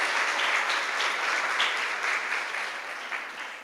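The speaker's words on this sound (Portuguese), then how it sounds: "Pode aplaudir mais forte aí, irmão." A church congregation claps in a dense, sustained burst of applause that stays steady, then slowly fades slightly toward the end, with no voices over it.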